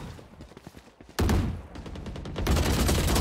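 Rapid gunfire spray from a weapon in the tactical shooter Valorant, a dense burst of repeated shots that breaks off and then resumes even louder, close and dominant.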